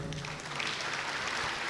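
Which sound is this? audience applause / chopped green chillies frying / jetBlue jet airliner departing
audience applause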